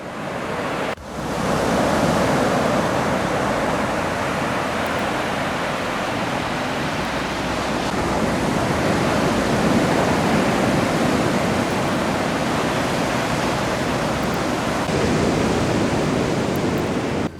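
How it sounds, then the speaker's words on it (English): Surf at Crystal Cove beach in Laguna Beach, California, a steady broad wash of breaking waves that rolls on continuously at close range, with no voices and a brief dip near the start. "the waves we saw really weren't that big"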